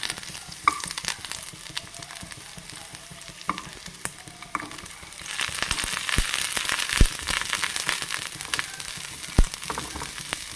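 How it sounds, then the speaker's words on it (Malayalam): Onions sautéing in coconut oil in a pan, a soft crackling sizzle that grows louder partway through, with a few sharp stirring knocks. "ആ ഉള്ളി നമുക്കൊന്ന് പതുക്കെ വഴറ്റിയെടുക്കാവേ"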